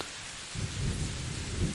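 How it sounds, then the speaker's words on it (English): Heavy monsoon rain pours down in a dense, steady roar, and a deep rumble of thunder swells in after the first half second and rolls on to the end, with no voices. "There is rain, and there is more than rain."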